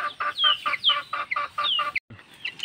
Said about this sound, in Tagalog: nandito po yung chicken broiler natin mga idol